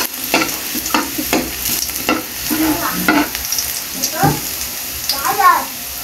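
Garlic frying in a pan for escabeche, a steady sizzle with repeated scraping stirs of a utensil and a few higher clinks, close and fairly loud, with a voice talking over it.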